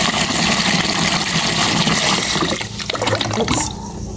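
Water pours into a cooking pan of frying chicken in a loud, steady rushing stream that thins out and trails off in the last seconds.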